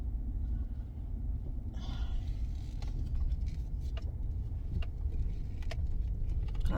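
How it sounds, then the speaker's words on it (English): A small delivery car drives past with a steady, close engine rumble lasting throughout, plus a few light jangling clicks over the noise. "that little car must be a delivery of some sort"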